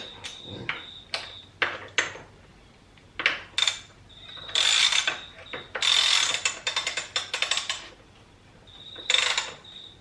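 Ratchet tightening a bolt on a Yamaha WR250R motorcycle during mod installation: several bursts of rapid clicking with pauses between, close and fairly loud, with no talking.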